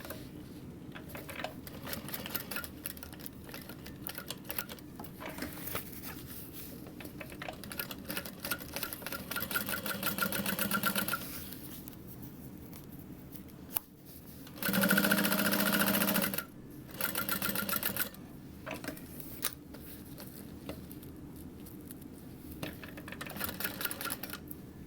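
A sewing machine stitches around all four sides of a leather convertible backpack in several bursts of rapid mechanical whirring, split by short pauses and handling noise, with one louder, longer run near the middle.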